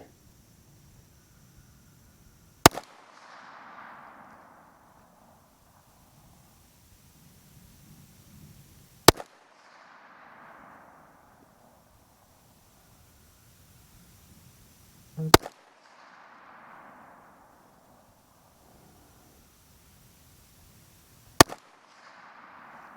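Four sharp, isolated gunshots from a Volquartsen Scorpion .22 WMR pistol with a 2-power scope, fired at a range roughly six seconds apart. Each crack is loud and brief, followed by a faint rustle of handling in between.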